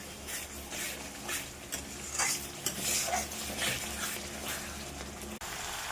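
Cauliflower and potato stir-fried in a pan, with steady sizzling and repeated scraping and clinking of a spatula against metal, fairly close and continuous.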